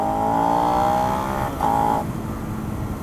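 A Suzuki SV650 motorcycle engine revs loud and close, holding a steady high note, dipping briefly, then rising again before settling into a rough idle.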